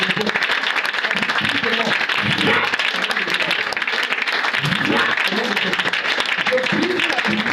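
A church congregation at a deliverance service claps and cheers in sustained, crowded applause while a preacher's voice rings out over the noise.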